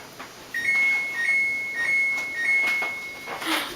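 Kitchen timer beeping when the chocolate chip cookies finish baking, a series of thin, high electronic beeps in a short repeating pattern over a quiet kitchen hum.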